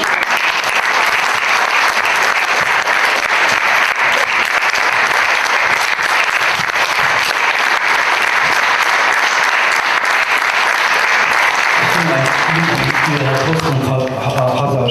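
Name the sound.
audience applause after a talk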